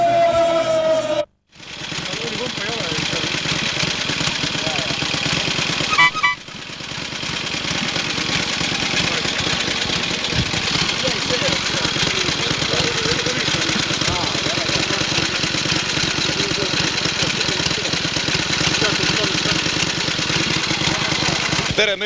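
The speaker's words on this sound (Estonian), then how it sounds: "See on Eesti kõige vanem mootorratas." A 1911 Royal Enfield motorcycle engine idles steadily and close by, with a brief dropout near the start and a short clunk around six seconds, a continuous rough mechanical drone lasting throughout.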